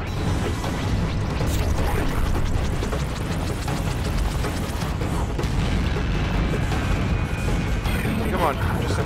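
Gunfire in the space combat game Distant Star, dense rapid bursts of shots and mechanical clatter over rumbling booms, loud and continuous.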